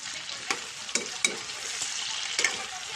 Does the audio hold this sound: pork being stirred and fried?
yes